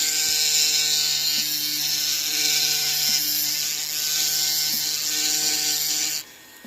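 A flex shaft rotary tool with a burr carves a ring impression die, giving a steady high-pitched whine that runs continuously for several seconds at close range, with faint periodic clicks, then cuts off sharply.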